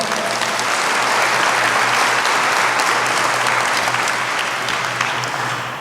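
Audience at a Frisco mayor's business round table applauds to welcome a speaker, a dense, loud, sustained wash of clapping from a large indoor crowd.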